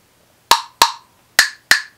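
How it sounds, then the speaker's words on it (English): An agogo bell from a nursery rhythm kit, struck four times in two quick pairs, each a bright, sharp metallic clink that rings briefly and decays, close and alone. "The agogo,"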